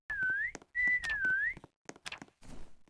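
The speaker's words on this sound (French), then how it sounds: "On va en profiter pour se faire un peu de sous en sifflant." Whistling by a player character in the Roblox game Meccha Chameleon: two sustained wavering whistled notes, close and clear, followed by brief thumps and clicks.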